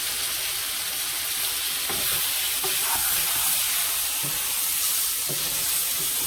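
Chicken sizzling in a pan of masala, a constant loud frying hiss with a few soft scraping stirs.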